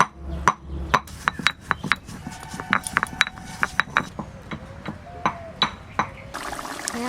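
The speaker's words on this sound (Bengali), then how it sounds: "আজকে আমি জিরে হেমল দস্তায় গুঁড়ো করবো, তা ভাজা না, এটা কাঁচা জিরে।" Raw cumin is pounded in a brass mortar, giving a steady series of sharp metallic clinks and knocks at an uneven rhythm, close and fairly loud.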